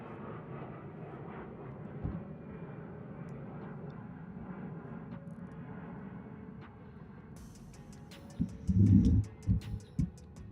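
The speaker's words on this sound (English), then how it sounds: "that plane go over now" An airplane passes overhead as a steady, distant engine drone lasting most of the stretch, fading slightly toward the end as some louder thumps and knocks break in nearby.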